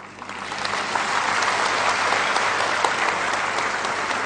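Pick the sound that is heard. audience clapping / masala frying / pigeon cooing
audience clapping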